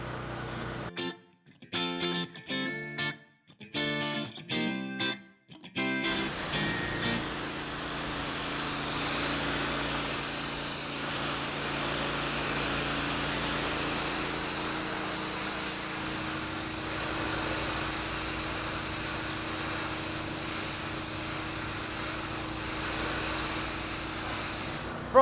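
A power washer sprays a heavily soiled area to strip diesel grime, a loud, steady hissing roar that runs continuously after a few brief stuttering bursts at the start.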